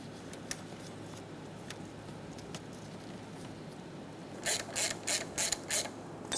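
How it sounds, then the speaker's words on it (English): A hand ratchet clicks while snugging a bolt on a 2003-2007 Honda Accord during crankshaft position sensor replacement, faint scattered clicks early, then a quick run of sharp ratcheting strokes near the end. "Snug the bolt down and torque it to 8 foot-pounds."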